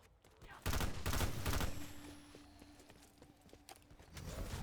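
A burst of rapid gunfire in the video game Call of Duty: Black Ops 4, loud, close and dense for about a second, then fading into scattered distant shots and ambient rumble.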